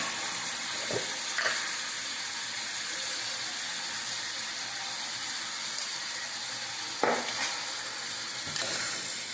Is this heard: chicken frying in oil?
yes